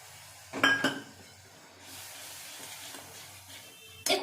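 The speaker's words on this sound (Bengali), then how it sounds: "মশলার বাটিটা ধুয়ে একটু জল দিয়ে দিচ্ছি" A spice bowl rinsed with water, opening with quick clinks of the bowl, a soft hiss of running water, then another sharp clink at the end.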